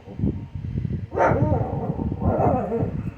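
A dog nearby lets out a couple of high, drawn-out barks that slide into whiny yips, with a low rumbling background.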